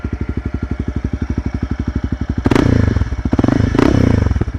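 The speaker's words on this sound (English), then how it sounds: "If you guys are looking into getting a Yosh pipe, I would recommend it. It sounds great." A Honda CB300F with a Yoshimura exhaust pipe idles up close with a fast, even, loud chugging pulse, then gets two sharp revs that roar up and fall back to idle.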